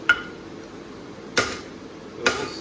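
Three sharp, ringing hammer strikes land on the steel of a large knife while bevels are forged in, spaced widely apart and sounding close and fairly quiet, with no talk.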